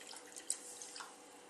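A glass of water is poured into a pan while making syrup for tocino de cielo, a soft, quiet trickle with a few small drip-like splashes, heard alone.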